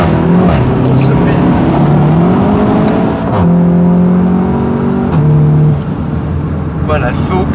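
A tuned 400 hp Cupra accelerates hard with a loud, steady engine drone whose pitch climbs through the gears, heard from inside the cabin with people talking over it.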